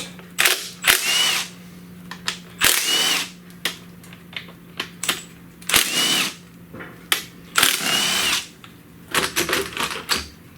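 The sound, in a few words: power driver with T30 Torx bit removing ignition coil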